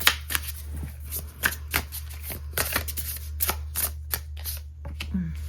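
A deck of tarot cards is shuffled in quick repeated riffles and snaps, each burst sharp and close, with a steady low hum underneath and no speech.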